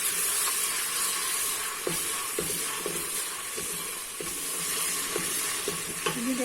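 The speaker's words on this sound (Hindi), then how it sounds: "हमारा लहसुन जो है ना ये भुन गया" Garlic and spices fry in a pot for Lahori beef nihari, a continuous sizzle and hiss with occasional spoon scrapes and knocks against the pot as they are stirred.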